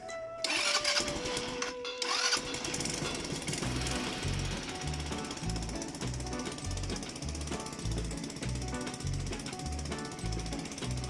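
A 150cc Vento Corsa scooter engine cranks and catches, then settles into a steady, loud, close-up idle with a rapid pulsing beat that continues to the end, no voices over it.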